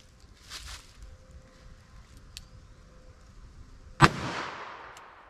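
A single .44 Special Federal Punch round fires with one sharp, loud crack near the end, followed by a brief fading echo, after a few seconds of quiet outdoor background with faint rustling.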